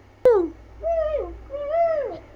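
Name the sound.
child imitating a cuckoo call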